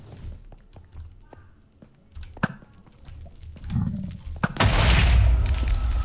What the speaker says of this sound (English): I like how there's a little explosion-y sound when they die.